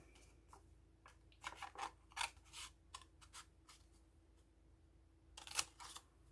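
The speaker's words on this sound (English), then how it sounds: "Just poke a hole in the center, cut to each corner." Sharp scissors snip through a paper specimen slide in a quiet room, a series of short, crisp cuts in uneven bursts, with a couple of louder snips toward the end.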